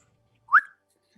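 A single short, sharp whistle rises and falls once as a signal, clear and alone against near silence.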